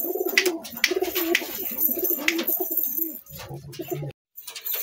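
Kolkata bloodline Madrasi pigeons coo in a series of soft, close, throaty calls with short gaps, and one brief pause of silence near the end.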